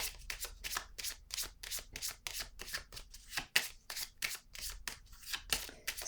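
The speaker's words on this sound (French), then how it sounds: "Je vais déposer une carte ici" Tarot cards are shuffled and laid down in a rapid riffling patter: a steady run of short papery flicks and slaps that stays close and moderately loud, with no talking.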